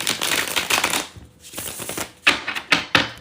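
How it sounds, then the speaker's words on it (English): A deck of playing cards is shuffled several times in a row. Close, crisp riffling bursts flutter and pause, then return in sharper snaps, with no talking. "Then you're going to shuffle your cards."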